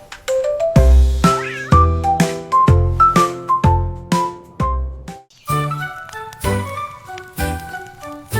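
Cartoon cat meows in a French children's nursery rhyme song, sounding over a bright, rhythmic musical backing with repeated piano-like notes and no talking.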